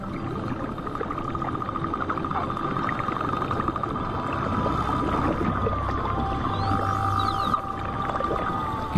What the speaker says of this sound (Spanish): Las ballenas piloto son extremadamente sociales y se comunican con un amplio repertorio de silbidos y